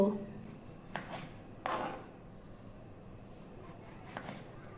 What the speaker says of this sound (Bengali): আমি এখন বেগুনগুলোকে গোল গোল করে কেটে নিব